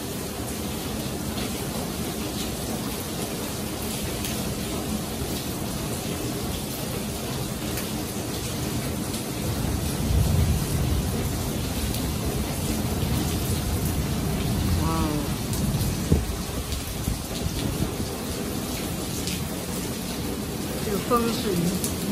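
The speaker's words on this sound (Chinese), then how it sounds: "一阵大风，一阵狂风暴雨" Heavy rainstorm in Penang with gusty wind, a steady broadband roar of rain that swells louder around the middle as gusts pick up, with brief distant rumbles and no clear talk.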